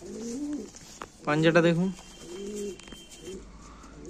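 A pigeon coos close by in soft, low, repeated throaty phrases, one louder burst in the middle, while someone talks over it.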